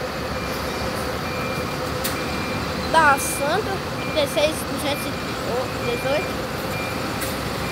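A city bus in Fortaleza sounds its reversing beeps while parking: a few thin, evenly spaced tones over a steady engine and street rumble, with people talking nearby.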